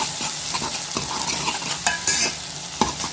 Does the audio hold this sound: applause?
no